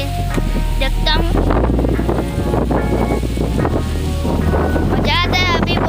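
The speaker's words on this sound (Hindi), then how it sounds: "अभी बहुत हवा चल रही है।" Strong wind blows outdoors in nature, a loud, constant roar buffeting the microphone throughout. Someone talks over it now and then, and a few high chirps rise out of the rush.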